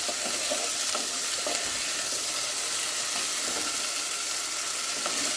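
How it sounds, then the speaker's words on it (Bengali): Loud, continuous sizzling of hilsa fish oil frying in a pan, with a rhythmic scraping of a spoon stirring through it. "এই ইলিশ মাছের তেলটা দিয়ে আমি ভালো করে কষাচ্ছি"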